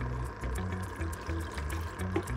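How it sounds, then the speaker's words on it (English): Water carrying sea monkeys poured from a container into two cups, a soft, steady trickling and splashing close by, fairly faint and continuous with slight rhythmic gurgles. "I just pour half of it into these two cups, half into each-ish."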